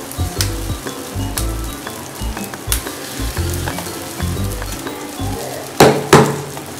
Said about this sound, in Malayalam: പാന് ചൂടായിട്ടുണ്ട്. നമുക്ക് പത്തിരി ഓരോന്നായിട്ട് ഇട്ട് കൊടുക്കാം.